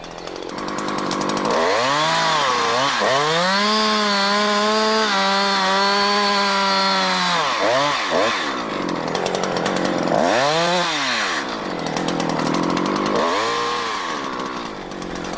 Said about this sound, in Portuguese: Como a lâmina não atravessa o tronco, é preciso completar o corte da bica do lado oposto.